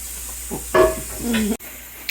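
Gravy bubbling as it returns to a rolling boil in a pot, made for an old-fashioned fried squirrel and rabbit dinner; a soft sizzling bubble runs beneath a few clanks of stirring and brief voices.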